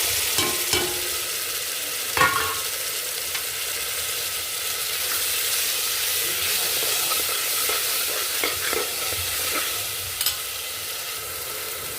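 Masala spices frying in oil with browned onions for mutton keema curry, a steady close sizzle with occasional sharp stirring scrapes and clicks throughout, no voices.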